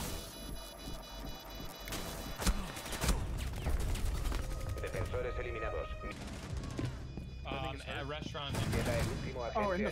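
Rapid gunfire rattles through a video game round, bursts and single shots overlapping with loud explosions-like impacts, while players talk over the action.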